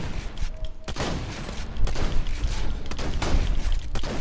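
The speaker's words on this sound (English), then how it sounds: "One shotgun blast." Shotgun fire and heavy gunfights from the video game Borderlands 2 produce a dense, loud barrage of blasts and booms throughout, with faint voices briefly underneath.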